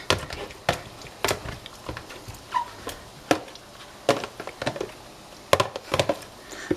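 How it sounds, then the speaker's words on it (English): Cooked mirlitons are mashed in a pot to press water out, giving a series of irregular sharp thuds and squelchy knocks close by, with pauses between strokes and no speech. "I'm just mashing and leaning."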